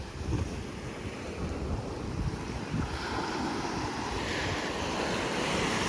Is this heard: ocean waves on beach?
yes